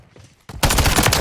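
Close automatic gunfire from hip fire in a first-person shooter match, a quiet lead-in followed by a sudden loud sustained burst of rapid shots running to the end.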